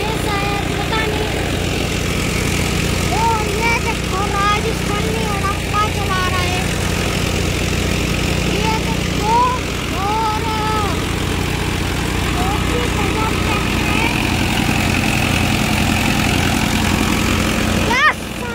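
A Sonalika 60 Mahabali tractor engine runs continuously up close, a loud, steady low rumble for the whole stretch, with voices speaking over it in the middle.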